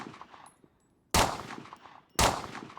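Two sharp, loud gunshots from a weapon in the zombie survival game Survive the Nights, spaced about a second apart, each ringing out with a decaying tail after a quiet stretch.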